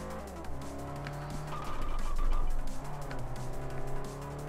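Car tires squeal and skid under the emergency brake in Forza Motorsport 4, a steady engine drone swelling into a brief screech over the roar.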